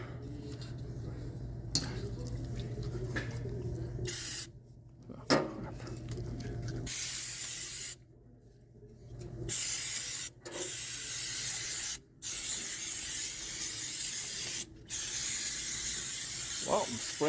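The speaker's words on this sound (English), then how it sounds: "Well, I'm spraying like the brake clean's free." Repeated bursts of brake cleaner spray hiss from an aerosol can, several long blasts separated by brief pauses, close by with some low background hum.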